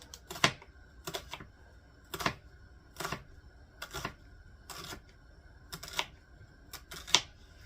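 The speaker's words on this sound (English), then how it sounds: "we're going to cut that onion up, and we're going to mince it up really, really small" A knife chops an onion on a cutting board with about a dozen crisp, evenly spaced taps, close and clear against a quiet kitchen background.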